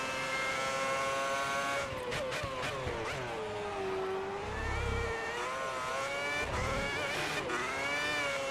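F1 2010 race car engine screams steadily at high revs with shifting pitch throughout, with brief tyre scrubbing and skidding noises mixed into the continuous roar.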